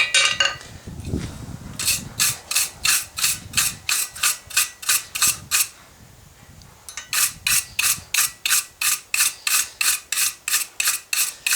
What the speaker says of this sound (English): Just hit that with a wire brush